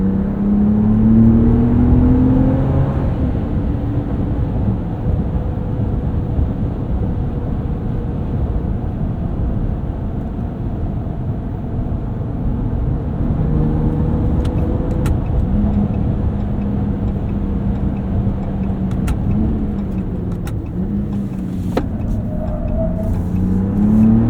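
A 2025 Ram RHO truck in sport mode pulls up an entrance ramp, its engine note climbing, dropping at a shift and climbing again, loud and steady from inside the cab with no talk.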